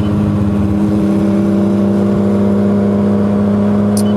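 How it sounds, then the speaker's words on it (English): A Yamaha Phazer snowmobile-style engine with an aftermarket Kirker exhaust hums at a steady, loud, near drone on a mountain group ride, holding a constant buzzing tone with slight waver and no speech. "that Kirker exhaust on that phaser sounds good"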